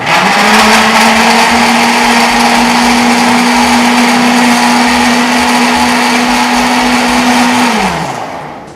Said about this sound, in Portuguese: Agora vai bater todo o liquidificador.